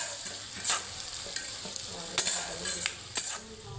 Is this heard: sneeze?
no